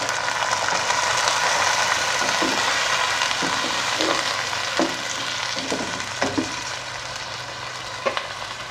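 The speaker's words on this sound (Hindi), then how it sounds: "इसको भूनेंगे अच्छी तरह ऑयल में" Beef pieces and masala frying in oil: a steady loud sizzle fills the pan, with several scraping stirs and knocks of a spoon breaking through as the hiss gradually eases.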